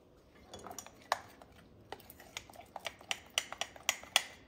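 A utensil stirring a small milk mixture in a bowl in a home kitchen, with quiet, irregular clinks and taps that grow more frequent and sharper toward the end.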